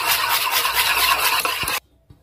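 Eggs whisked into a lemon cake batter made with grated orange-lemon zest, semolina and sugar: a steady, busy scraping and stirring in a bowl that runs continuously, then stops abruptly, leaving near silence with a faint knock.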